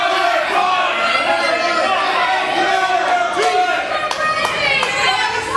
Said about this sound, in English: The crowd is trying to get on the nerves of Max Power by yelling "Power Butt."